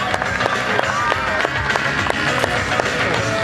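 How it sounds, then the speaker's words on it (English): A crowd at an outdoor extreme stunt show claps and cheers for a stunt driver, steady dense applause over rumbling background noise throughout. "round of applause for Gary White"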